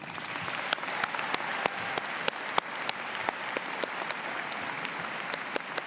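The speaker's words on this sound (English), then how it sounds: "please join me in a round of applause for MRU's faculty and" Steady applause from a large audience at a university convocation, honouring the faculty and staff, with sharp individual claps standing out over a dense wash of clapping that holds at an even level throughout.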